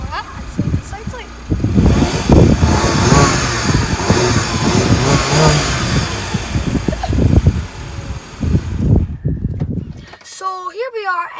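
A car engine is floored at full throttle, producing a loud, surging roar that rises and falls for several seconds before cutting off abruptly. Voices talk over the engine noise.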